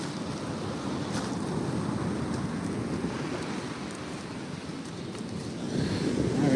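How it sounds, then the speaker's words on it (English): Ocean surf rolls onto a sandy, rocky beach in a steady, broad wash of noise, with wind buffeting the microphone and a swell building near the end; no one speaks. "Check out the waves."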